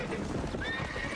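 Rapid hoofbeats of a galloping horse with a brief high neigh over steady background noise, from the video game Red Dead Redemption.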